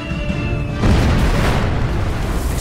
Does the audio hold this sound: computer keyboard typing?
no